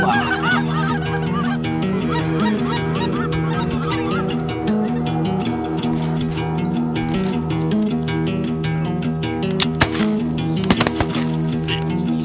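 Geese honk loudly and continuously, many birds calling at once as they fly in during a sandhill crane hunt in West Texas, with a couple of sharp gunshot-like bursts near the end.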